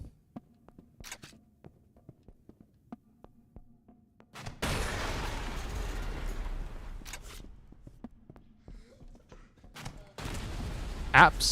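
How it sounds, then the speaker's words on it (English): Grenade launcher shots in the video game El Paso, Elsewhere: two heavy booming blasts with long rumbling tails, separated by quieter gameplay clicks and ambient hum, close and loud against the softer background. "So the launcher fires grenades."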